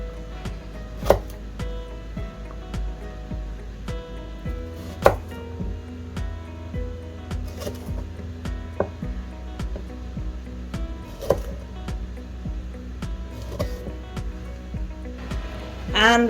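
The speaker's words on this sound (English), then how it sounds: "And we're going to chop them up." A knife chops Brussels sprouts for a dry curry on a cutting board, with steady irregular taps and sharper knocks spread across the whole stretch, close and moderately loud, with no voice over them.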